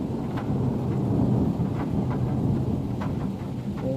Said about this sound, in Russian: Ох и гром.